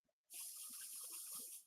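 Static guard spray from an aerosol can sprays in one continuous hiss lasting about a second and a half, close and quiet, preceded by a faint tap.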